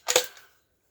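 A rifle bolt is worked once, a close, quick metallic clack-clack of two sharp strikes that fades out within half a second.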